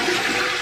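A hotel bathroom toilet flushes with a loud, rushing gush of water, heard close up.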